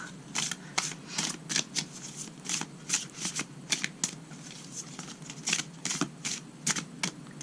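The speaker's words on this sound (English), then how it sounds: "My hands are not big enough, so I'm shuffling this way now." Large tarot cards being shuffled close up, a rapid series of crisp riffling bursts repeating in an uneven rhythm with brief pauses between them.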